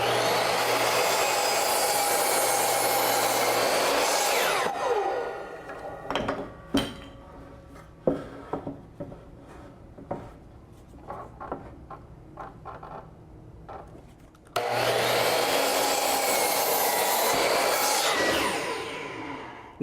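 A miter saw cuts a 2x4 during a DIY workbench build, making two loud whining cuts that spin up, bite through the wood and wind down, separated by quieter clunks and handling knocks.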